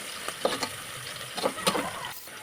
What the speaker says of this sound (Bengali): রান্নার সাদা তেল এখন দিয়ে দিচ্ছি আমি জিরা ফোড়ন খিচুড়িতে